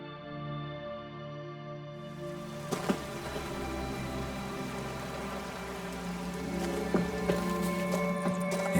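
Steady rain falls across an outdoor scene in the video game The Witcher 3, a continuous soft hiss with scattered sharper drop ticks layered over a faint tonal music bed, no talking.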